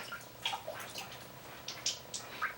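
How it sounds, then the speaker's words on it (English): Water dripping from the hoses of an RO system into a bucket during end-of-season storage, several sparse faint drips and small splashes at irregular intervals in a quiet room. "I'm gonna let this red hose kind of drip here for a minute"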